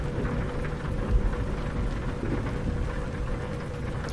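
Thunder rumbles through steady rain in Euro Truck Simulator 2 during a storm in fog, a low rolling boom swelling around the middle under a constant wash of rain, with no voices.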